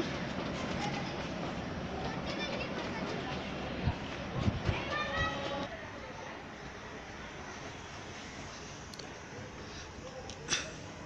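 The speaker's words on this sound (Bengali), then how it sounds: "আমাদের এখানে যেখানে থাকি সেখানে ট্রেন চলাচল করে, সব সময় ট্রেন যাচ্ছে।" A train rolls by nearby with a low, continuous rumble, a few bursts of clattering wheel noise and a faint high squeal that fades into a quieter hum.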